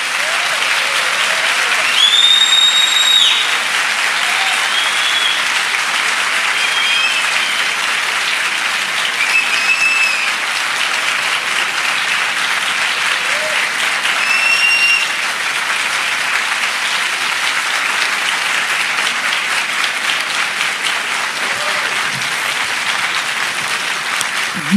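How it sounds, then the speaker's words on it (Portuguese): Audience at a Brazilian drug-history congress talk applauds, a loud sustained wave of clapping that holds steady for the whole stretch with a few scattered whistles and cheers. "Os aplausos devem ser dirigidos ao Renato Malcher e a toda a comissão organizadora."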